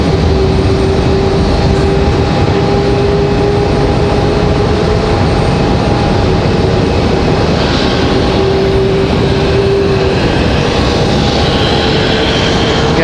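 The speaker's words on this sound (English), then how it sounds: "Guys are hearing Griswold the Bear livery starting up down here below us at 8320" Airliner painted in Griswold the Bear livery starting its engines at an airport gate, a loud steady jet roar with sustained whining tones, heard from above and nearby with no talk.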